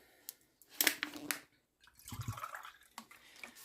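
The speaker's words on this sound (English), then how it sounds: "I rinse out the can, maybe half a can." Water sloshes and drips as a small can of tomato sauce is rinsed out in a home kitchen, close and quiet, in two short splashing bursts separated by a brief pause.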